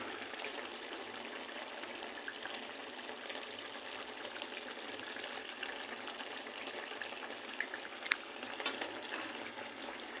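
Egg poach curry simmers and bubbles in a pan, giving a steady, soft, close sizzling hiss that holds for the whole stretch without a break, with a few faint clicks near the end and no voices.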